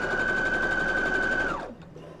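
A sewing machine runs on its high-speed setting while a quilt is pieced, giving a loud, steady whirring hum with a sustained motor whine that winds down sharply near the end.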